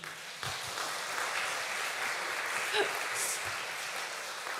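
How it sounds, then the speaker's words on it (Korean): An audience at a church lecture on wellness gives sustained applause, a steady wash of clapping that holds evenly throughout. "우리 목사님께도 감사의 박수"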